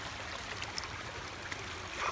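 A small, clean river stream flowing outdoors, a soft continuous burble and trickle of water heard alone at a quiet, even level.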